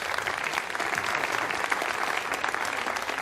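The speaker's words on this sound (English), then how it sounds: "And you hear the applause" Applause fills a launch control center after a Soyuz rocket's satellites separate, a dense, steady clapping from a group of people that carries evenly throughout.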